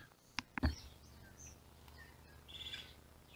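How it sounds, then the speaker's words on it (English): Small yellow-headed, yellow-breasted bird in a lakeside park gives a few faint high chirps and tweets, with brief nearby knocks and soft outdoor background noise. "Little bird there with bright yellow head and chest there."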